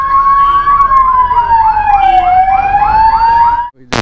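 An ambulance siren wails loud and close, caught in a traffic jam beside highway roadworks. Its pitch sweeps in a steady warbling cycle for almost four seconds before cutting off.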